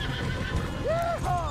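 In the video game Red Dead Redemption 2, a horse whinnies once, a rising and falling neigh over a rumbling backdrop of hooves clopping and general commotion.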